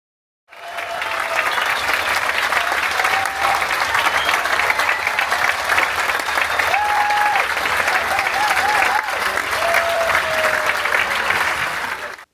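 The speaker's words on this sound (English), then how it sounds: "there was a standing ovation right at the end" Cruise ship theater audience gives a standing ovation at the end of a show, loud sustained applause and crowd noise lasting the whole stretch with a few faint whoops.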